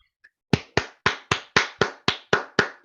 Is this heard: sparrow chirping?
no